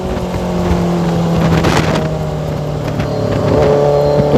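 A 2023 Benelli TNT 600GT motorcycle fitted with an Ixil 55 exhaust, engine revving and pulling up through its range with a rising whine and rough exhaust rumble, loud and close, with no voices.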